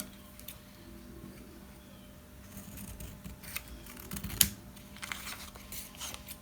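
Paper being trimmed with scissors for a junk journal at a craft table, a few soft crisp snips and rustles spread across the clip, fairly faint and close, with no talking.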